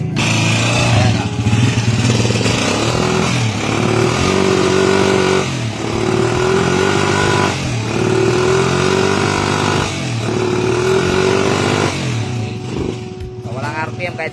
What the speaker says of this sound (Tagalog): Ang problema nito, sobrang ingay timing gear, tapos walang RPM.